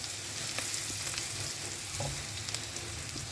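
Six or seven onions sautéing in hot oil for fried cassava, a dense continuous sizzle with faint stirring clicks, close and steady throughout.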